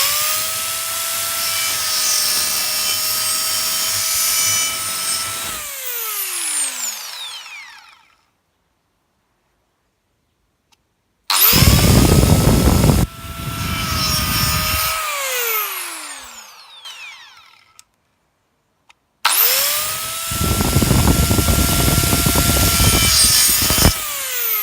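A Dremel DSM20 compact saw cuts black PVC pipe in three close, loud bursts, each ending in a falling motor whine as the blade spins down, with short silent gaps between cuts and no talking.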